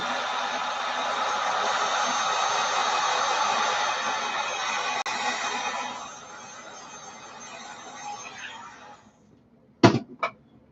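A heat gun blows a steady, loud broadband rush over an epoxy resin pour holding sand, rocks, glitter and seashells, then drops to a softer hiss and cuts off, followed by a couple of sharp knocks.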